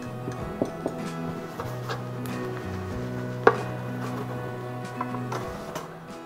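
Beef being chopped with a knife on a board, a series of sharp knocks at an uneven pace over steady kitchen tones and a low hum, with one louder chop standing out midway.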